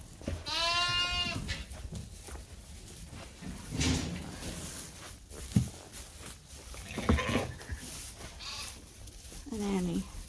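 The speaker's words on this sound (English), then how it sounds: "We got a load of white sheep going over, and I'm going to put them in that group." Sheep bleat in a barn as a group of white sheep is moved between pens, with several loud, wavering calls close by, scattered between rustling, clattering gates and a person talking.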